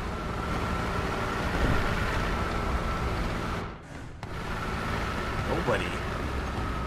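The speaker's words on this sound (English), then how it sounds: "Come on, BT engine." BT-7M tank engine in the War Thunder video game, a steady mid-level mechanical rumble that briefly dips around the middle before resuming, with a player's voice talking over it.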